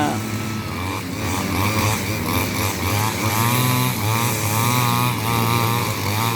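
Korean-made Hyundai grass trimmer engine running steadily, a buzzing two-stroke drone with slight pitch wobbles, loud and close throughout.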